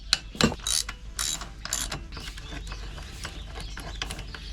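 Ratchet undoing 14mm brake caliper bolts on a motorbike during a brake pad change, a few sharp loud pulls at the start, then a long run of quick, fainter pawl clicks.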